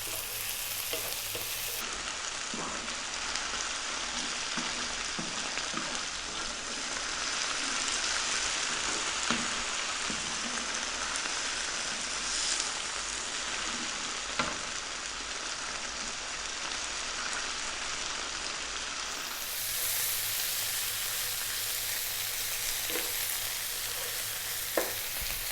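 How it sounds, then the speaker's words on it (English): Spinach sizzles and crackles steadily in a hot pan on high heat, stir-fried with occasional scraping and stirring clatter throughout, close and continuous, no voices. "We're going to go for 3 to 4 minutes on the high heat, stir frying it"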